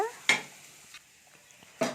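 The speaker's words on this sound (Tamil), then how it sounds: "தேங்காய் துருவல் சேர்த்துட்டேன். இப்போ நல்லா வதக்கிக்கலாம்." Grated coconut being sautéed in a pan for a roasted-gram chutney: two sharp scraping clinks of a spatula against the pan, a faint soft sizzle between them, with no talk.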